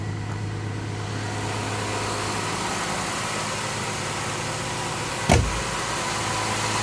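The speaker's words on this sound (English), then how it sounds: "That's the hot idle." A 1984 Jaguar XJS V12 engine runs at a steady hot idle, a continuous low hum close by, with a brief knock or clunk near the end and no talking.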